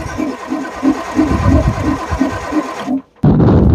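A homemade Perkins diesel engine in a long-parked RV cranks with a steady rapid chugging rhythm, then catches briefly, drops out for a moment, and fires again loudly at close range.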